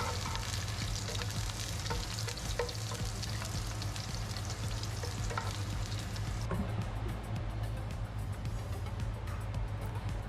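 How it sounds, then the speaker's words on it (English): Shredded potatoes stir-fried in a pan, a steady broadband sizzle that runs unbroken throughout, with scraping and tossing noises scattered across it. The sizzle grows slightly duller in the final few seconds. "Stir fry, 翻炒。"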